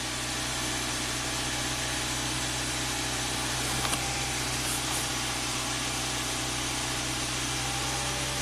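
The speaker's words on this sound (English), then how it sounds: "So I'm going to raise the RPMs a little bit." Hyundai car engine held at slightly raised RPM, a steady close droning hum with constant mechanical vibration and no talk throughout.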